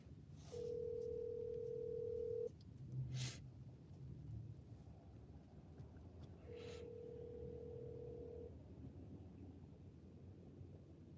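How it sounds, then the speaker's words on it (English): A telephone call being placed produces ringback tones: two long, steady electronic rings separated by a pause, clear against faint background hiss. "I'm gonna do a live call."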